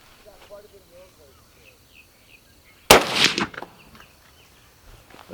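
A single loud, sharp gunshot is fired over a chronograph sensor outdoors. The crack rings out briefly against a quiet background of faint birdsong.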